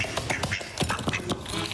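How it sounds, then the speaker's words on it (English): A duck wearing a sweater quacks in short, repeated bursts at close range, with brief pauses between calls; no speech is heard. "this duck in a sweater is very cute"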